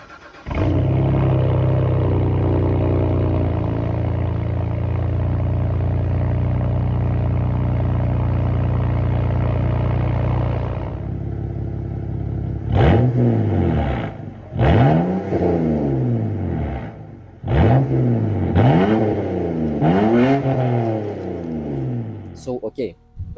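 BMW E90 with a straight-pipe exhaust and no muffler or resonator, first idling loudly for about ten seconds, then silent, then revved in a string of sharp rising-and-falling blips, loud and close.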